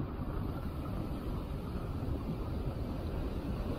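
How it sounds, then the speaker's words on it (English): Strong hurricane wind roaring steadily and unbroken in the open, buffeting the microphone with a dense low rumble and no voices. "A strong wind."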